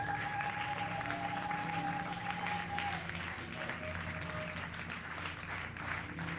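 A church congregation claps together in praise of the Lord, soft and distant, while a faint sustained tone runs through part of it.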